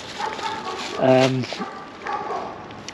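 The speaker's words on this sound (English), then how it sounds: "there's dogs all over the place." Dogs around a gypsy village near a haunted silver mill, with one brief howling or whimpering dog call in the middle, heard from a moderate distance over outdoor background and faint talk.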